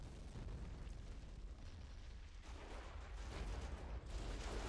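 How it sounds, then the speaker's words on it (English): Artillery fire in the World War I game Battle of Empires 1914-1918 rumbles as a dense, continuous wash of distant explosions and booms, loud and without talk. "The artillery looks like it's shooting off the map though."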